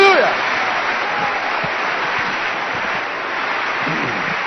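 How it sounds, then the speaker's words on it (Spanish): A church congregation applauds in praise, a thick, steady roar of clapping filling the room, with a faint voice briefly audible at the start. "aplauso al Señor."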